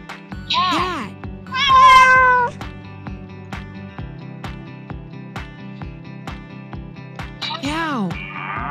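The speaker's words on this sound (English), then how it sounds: "Cat." A cat meows several times, with short rising and falling calls near the start and one at the end, heard over a steady rhythmic music beat.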